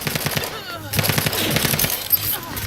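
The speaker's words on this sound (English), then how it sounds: "let's go with the burst light pistol" Bursts of light pistol fire in the video game Outer Worlds 2, rapid shots crackling through a busy combat mix with other effects and faint voices.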